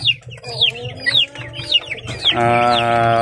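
Young chicks from a small backyard flock peep nearby in quick, high, downward-sliding chirps, then a steadier, fuller bird call takes over toward the end.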